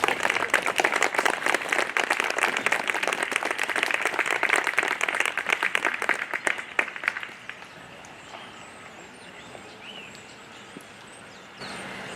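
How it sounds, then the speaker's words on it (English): Audience applause at an outdoor Veterans Day ceremony in Southbridge, dense steady clapping from a crowd for about seven seconds before fading to quiet ambience. "So please give her a round of applause to Jorellis Diaz"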